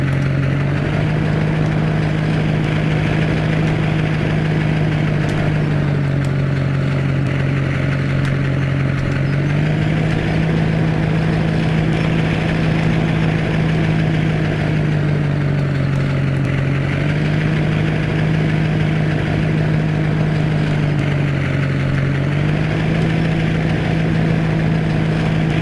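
A 2017 Chevrolet Silverado Duramax engine in Farming Simulator 17 idles steadily and close, a constant low drone that shifts pitch slightly at intervals for the whole stretch, with no one talking.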